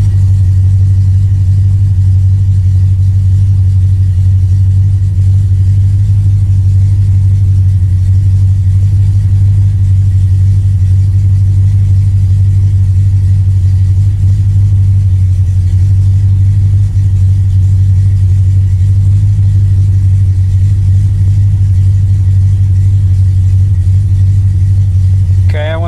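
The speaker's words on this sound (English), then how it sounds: "I'm idling at 700 RPMs right now." A 1979 AMC AMX engine idles at about 700 RPM, a loud, close, steady low rumble with no change in pace throughout.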